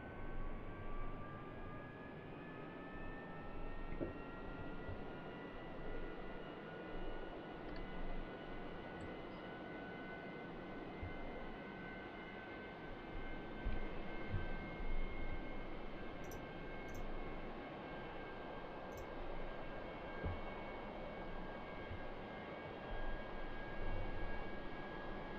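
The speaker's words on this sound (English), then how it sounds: "Give me a moment to get the aircraft started." Jet aircraft engine spinning up in the DCS flight simulator: a steady loud roar with whines rising slowly in pitch and holding, continuous and near throughout, no talk.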